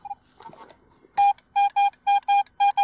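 A Garrett metal detector gives a run of sharp, loud electronic beeps in a steady pulsing rhythm while searching for coins outdoors.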